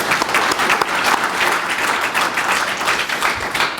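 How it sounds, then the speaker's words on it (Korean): Dense, sustained audience applause fills a lecture hall at an association pre-training seminar, steady and loud throughout as a guest director is welcomed. "여러분 박수 한번 크게 보내주십시오."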